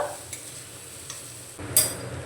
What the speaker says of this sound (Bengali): মশলাটা একটু নাড়াচাড়া করে আমি কষিয়ে নিলাম